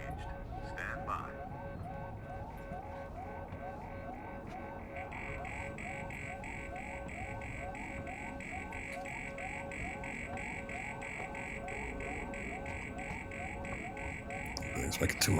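An alarm system blaring inside a locked facility in Alien: Isolation, a steady repeating electronic pulse and buzzing tone that runs continuously at moderate level over low background rumble.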